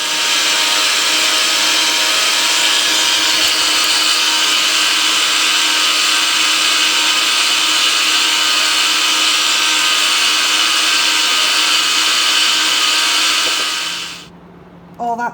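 Wild garlic whirs in a blender, a loud, steady motor roar held for about fourteen seconds before spinning down and stopping, followed by a couple of brief clunks.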